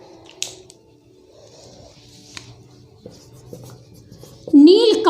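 Words being written on a board make faint, intermittent scratchy strokes and taps in a quiet room, and a voice starts speaking near the end.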